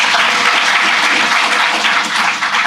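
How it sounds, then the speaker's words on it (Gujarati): A crowd applauds steadily and loudly at an award ceremony, dense clapping sustained throughout without pause. "જોરદાર તાળીઓથી"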